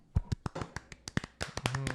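A small group claps for guest Jason Schommer: about a dozen sharp, close claps, uneven at first and then quicker and overlapping toward the end.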